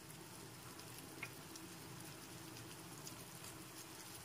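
Ginger garlic paste and turmeric sizzle in a pan for a fish curry, a soft continuous frying hiss with occasional light stirring clicks, faint and close.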